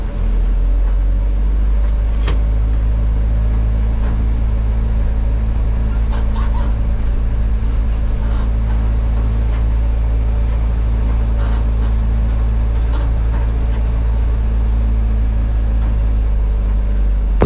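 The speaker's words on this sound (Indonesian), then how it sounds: "Tepat pukul 10 pagi, bus Bagong berangkat dari terminal Kepusari," Bagong intercity bus departing Kepuhsari terminal in Jombang, its engine rumbling steadily and loud throughout, with a constant low drone, occasional clicks and brief higher noises, and no talk.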